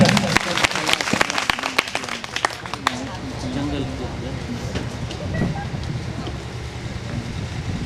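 Scattered clapping from students in a classroom, rewarding a correct quiz answer, comes as a brisk burst of close claps over the first few seconds, then fades into room noise and voices.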